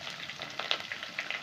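Chana dal and curry leaves fry in oil in a pan, a close, brisk crackling with quick pops and the scrape of stirring, short and without speech.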